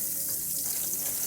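Onions fry in a pan in soy-free Earth Balance vegan butter, a brief, steady, close hiss of sizzling with no voices.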